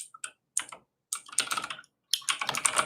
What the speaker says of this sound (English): I cannot type on this keyboard. It's just not the right size.